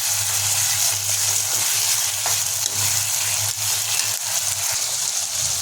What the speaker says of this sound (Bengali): পেঁয়াজ কুচি যোগ করে দিয়েছি, তাই এটাকে আমরা নাড়িয়ে নেব।